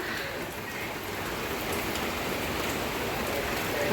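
Steady rain falls in a continuous even hiss, heard close by and moderately loud, without pauses for the full stretch.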